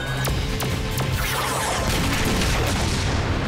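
Super mega cannon of a cartoon Power Rangers Super Megaforce weapon firing, a loud sustained barrage of booming blasts and crashing impacts with sharp cracks at the start, dense and continuous throughout.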